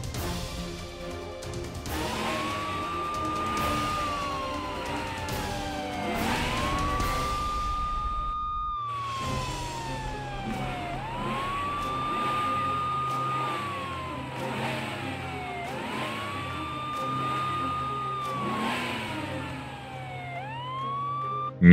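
Ambulance siren in an animated cartoon, a loud rising-and-falling wail repeating steadily throughout over a revving engine.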